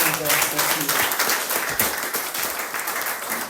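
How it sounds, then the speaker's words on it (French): Church congregation applauds at the close of a Sunday service, brisk continuous clapping with a voice speaking faintly over the start. "Applaudissons au Seigneur pour le glorifier son nom."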